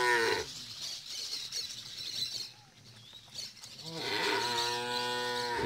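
Dairy cows on a farm in El Salvador moo loudly nearby, one long low call at the start and another toward the end, with quieter rustling and faint animal sounds in between.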